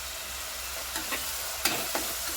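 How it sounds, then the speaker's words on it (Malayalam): Chopped onion sizzles in a hot pan: a steady bright hiss runs throughout, punctuated by a handful of light scrapes and taps as it gets stirred. "സവോള ഇടാം അപ്പോൾ സവോള ഇടാൻ പോവാണ്"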